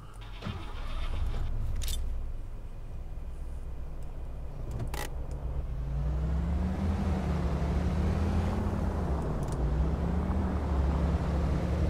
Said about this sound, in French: Il fait beaucoup plus de bruit ce camion par rapport à la voiture.